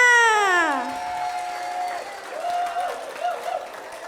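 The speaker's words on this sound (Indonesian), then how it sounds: "Halo ayah bunda grade 6, mana tepuk tangannya?" Parents of sixth-grade pupils applaud at a school language-month event, a crowd of clapping mixed with voices and a rising cheer, steady and moderately loud throughout.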